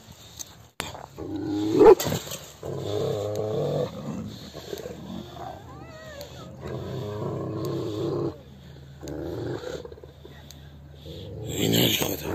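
An 11-month-old Georgian shepherd puppy growls in low, rumbling bursts with snorting breaths, close and fairly loud, while people talk intermittently.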